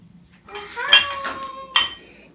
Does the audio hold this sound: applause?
no